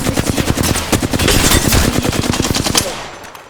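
Rapid automatic gunfire in a video game, a loud sustained burst of closely spaced shots lasting a few seconds before tapering off, with no speech.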